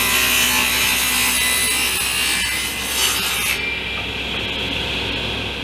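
A saw cuts half-inch wood strips for the fence of a table saw crosscut sled, a loud, steady rasping whine that runs continuously for several seconds before dropping off as the cut ends.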